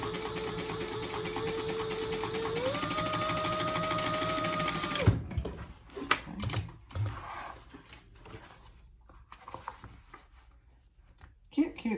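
A sewing machine top stitching a bag side panel runs in one steady close whir for about five seconds, its pitch rising partway, then stops, followed by light handling clicks and someone talking.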